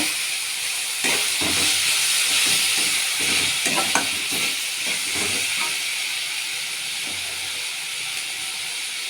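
Mint, coriander and fenugreek leaves frying for chicken biryani, a loud steady hiss and sizzle of the greens in hot oil with repeated rhythmic stirring scrapes, no speech.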